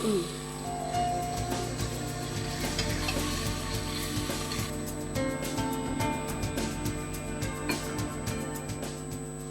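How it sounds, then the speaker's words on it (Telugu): Tomatoes are stirred in a cooking pan with a steady sizzle and rhythmic scraping strokes, heard under a continuous tonal background and some faint voice. "టమాటా వేసి బాగా కలపండి"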